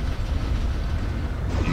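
A train rumbles past in Mechwarrior 3 as a steady, loud low roar with a rising whine near the end.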